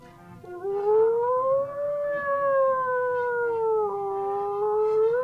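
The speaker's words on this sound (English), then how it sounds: "You hear the sounds of Oh, the sirens in ambulances the are here. distance" An ambulance siren in a video game wails as one long tonal sweep that rises, holds and dips, loud and continuous for several seconds with no speech over it.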